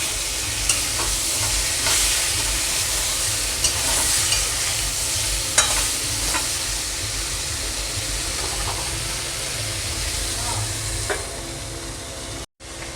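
Pumpkin and onion fry in a pan with a strong, steady sizzle and occasional stirring scrapes, close and continuous until a brief break near the end.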